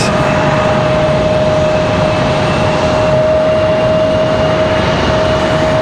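A continuous airliner engine drone with a steady high whine at Raleigh Durham International Airport, constant and fairly loud, with no voices.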